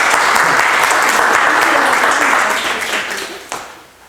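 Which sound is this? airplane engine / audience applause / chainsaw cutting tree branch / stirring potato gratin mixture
audience applause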